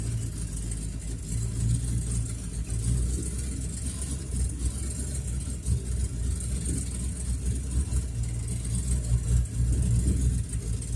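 A Ford Fairlane rolls slowly over a rough road, its engine a steady low rumble with uneven bumps and rattles from the suspension, continuous and fairly loud with no talking.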